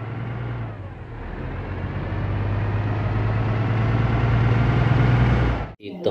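A toy bus gives off a steady, buzzing engine whir that rises slightly in strength, holds evenly for several seconds, then cuts off abruptly, with no one talking.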